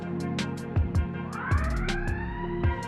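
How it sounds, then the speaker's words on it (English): A wailing siren rises and falls over steady workout music with rhythmic thumps, the tone sweeping upward and holding loud throughout. "There is another siren."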